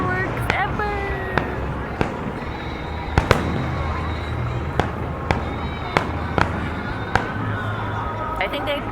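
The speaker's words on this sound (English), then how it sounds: "Best fireworks ever." Fourth of July fireworks in Washington DC, sharp booming bursts popping at irregular intervals over a steady crowd murmur, with people chattering nearby throughout.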